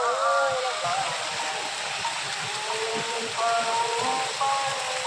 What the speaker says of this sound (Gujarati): ગાય માતાના મોઢામાંથી પાણી નીકળે છે